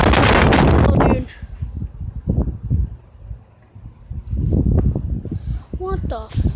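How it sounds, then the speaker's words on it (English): Strong outdoor wind storm buffeting the microphone in loud gusts, with someone talking over the roar in between. "It's so windy."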